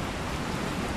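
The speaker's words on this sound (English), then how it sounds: "It's outside and it's raining." Steady rain falls outdoors in the VR game Resident Evil 4, a dense, even hiss of drops on surfaces with no voices.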